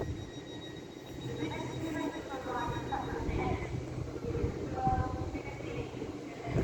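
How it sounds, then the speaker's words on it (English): A Grand Central Adelante train on the East Coast Main Line at Doncaster passes as a steady broad rumble with faint wheel squeal, holding constant for several seconds amid station ambience. "Now coming down is a Grand Central Adelante running from Sunderland to London King's Cross"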